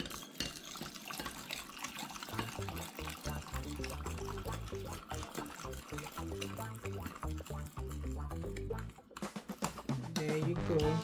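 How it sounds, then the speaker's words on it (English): Hot water pours steadily into a cup for custard, a continuous splashing and gurgling stream whose pitch shifts as the vessel fills, close and fairly loud for about eleven seconds. "I'm going to come here with hot water."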